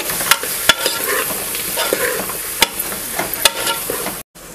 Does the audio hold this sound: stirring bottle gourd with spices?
yes